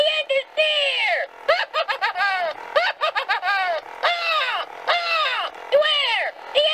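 A voice imitates a crow, letting out repeated harsh, rhythmic caws in quick bursts, loud and close, with no other sound around them.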